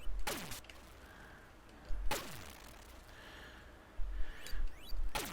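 Laser gunfire from the Xybots arcade game on the Atari ST comes as sharp synthetic zaps at intervals, each a quick bright burst with a falling tail, over a quiet electronic game background.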